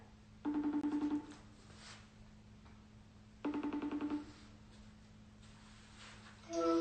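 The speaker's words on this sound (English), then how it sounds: "Okay, I'm just gonna FaceTime her." A FaceTime video call ringing on a phone, two bursts of the repeating ring tone separated by a pause, with a third starting at the end, clear and fairly close over faint background hum.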